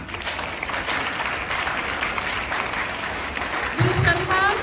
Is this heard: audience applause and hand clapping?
yes